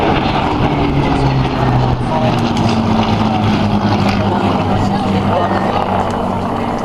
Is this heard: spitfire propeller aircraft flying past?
yes